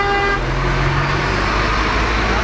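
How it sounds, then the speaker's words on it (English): Car horns toot amid Pudong street traffic, a sustained blaring honk near the start over a constant loud rumble of passing vehicles and engines. "Cars are honking at me."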